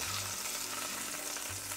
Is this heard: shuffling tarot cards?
no